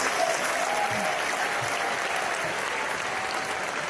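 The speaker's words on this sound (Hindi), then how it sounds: "एक बार हम सबको मिलकर के बहुत जोरदार तालियों से यूएस का धन्यवाद करना चाहिए।" A crowd at an RCM business meeting in Noida breaks into strong, sustained applause, a thick continuous roar of many hands clapping together at close range and even loudness throughout.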